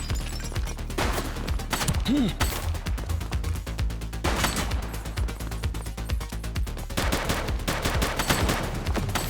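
Rapid bursts of gunfire crack through a shootout in the police game The Precinct, with dense volleys running almost the whole time and brief shouted voices mixed in.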